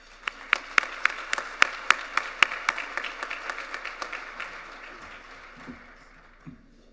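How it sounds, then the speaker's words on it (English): Luncheon audience applauds with a scattered ripple of hands, a few sharp, close claps standing out at first before the sound gradually fades into quiet room noise and murmurs. "I'd like to invite you all to join me in thanking him for that with a round of applause"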